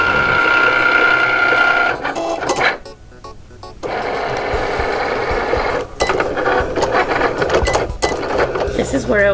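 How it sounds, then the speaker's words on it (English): A vinyl cutting machine cuts around a printed inkjet image, its whirring, ratcheting motor running in bursts with brief pauses, close and fairly loud, with a voice talking over parts of it. "This is where it will now start cutting around your image."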